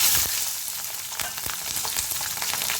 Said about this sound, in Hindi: राई को अच्छी तरह से तड़कने देंगे। फिर इसी में हम डाल देंगे मोटे टुकड़ों में कटी हुई हरी मिर्च